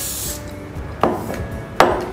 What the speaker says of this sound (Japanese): 仕上げにスプレーを振ります。